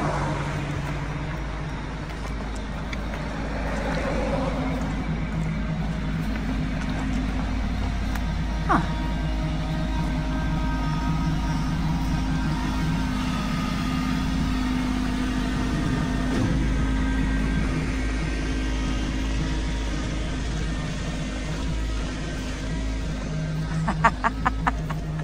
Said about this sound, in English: I'll just get off this road because this car is going to wipe me out